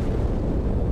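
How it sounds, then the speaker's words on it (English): A massive explosion inside the UNSC Athens station in Halo 2 roars as a dense, loud, sustained blast filling the whole moment. "That explosion came from inside the Athens."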